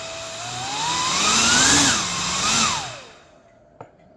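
A handheld vacuum cleaner converted into a blower runs loudly and close with a whining motor whose pitch rises and falls as it revs, then cuts out and leaves a brief click in the quiet.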